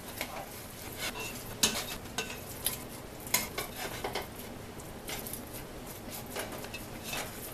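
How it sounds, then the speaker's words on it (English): Fatty market-ground meat for chili sizzles and crackles in a hot pot, with irregular stirring scrapes and clicks of a utensil against the metal, close up and moderately loud. "That is that extra fat from the market grind rendering out and hitting that hot pot."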